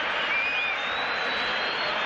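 Roma fans in a Serie A stadium applaud as Paulo Dybala leaves the pitch, a steady, dense wash of clapping and crowd noise from the stands.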